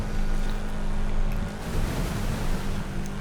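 Cars splashing through water in the Forza Horizon racing game, a loud continuous rushing, spraying roar with a low rumble, steady throughout with no talk.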